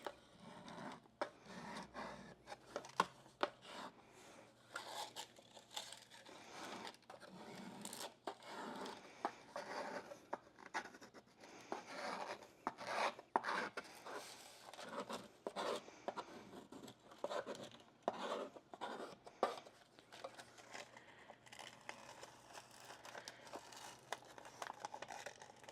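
A squeegee pressed and dragged over an IKEA MOPPE mini storage chest drawer, giving faint, close scraping and rubbing with irregular crackly bursts over a long stretch and no voices.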